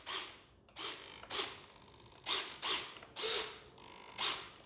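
Flap servos on a Dynam B-26 Marauder 1.5m RC plane whir in about eight short, close mechanical bursts, separated by brief quiet gaps.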